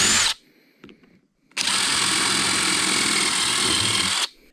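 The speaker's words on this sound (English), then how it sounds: "I'm now going to pre-drill for the 2 mounting screws" A power drill pre-drills screw holes in a kayak hull for mounting a drain plug, with a brief burst, a short pause and a small blip, then one sustained loud whine of about three seconds that stops abruptly.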